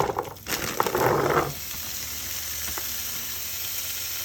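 Carrots dropped into hot oil in a pan for navy bean soup, giving a loud burst of sizzling and crackling that fades within a second or so into a soft, steady hiss.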